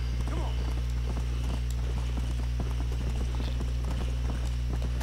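Horse hooves clip-clop steadily at a walking pace in the Western video game Red Dead Redemption, a continuous rhythmic patter over a constant low ambient hum, with no talking.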